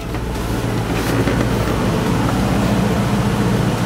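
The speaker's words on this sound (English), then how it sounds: "Car is running." A 1963 Ford Fairlane with a rebuilt 260 V8 idles steadily up close, a constant low rumble with no voices.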